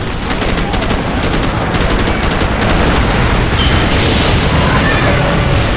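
Dense, continuous gunfire from a Call of Duty 4: Modern Warfare battle, with rapid automatic bursts and booming shots layered into a loud, unbroken wall of combat noise.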